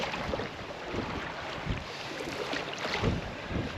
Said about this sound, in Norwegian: Nei, det blåser en del, men det går.